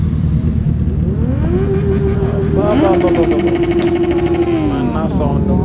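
A Suzuki Hayabusa superbike engine runs close by with a loud, steady drone and a rising then held whining pitch, at a World Motorcycle Day meet-up.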